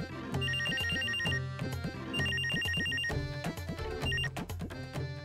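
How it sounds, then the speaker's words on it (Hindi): A mobile phone ringtone plays loud and close, a repeating electronic melody of bright chirping tones in short bursts with brief gaps between them. "एक तो ये मोबाइल फोन जो है इन्होंने खामखा में तंग किया हुआ है।"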